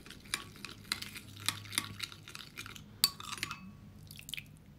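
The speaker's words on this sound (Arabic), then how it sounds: "هندوب النسكافيه كده بالشكل ده" Light scraping and clinking of a spoon stirring Nescafé to dissolve it in a small bowl, a quiet irregular series of close taps against the side with no talk.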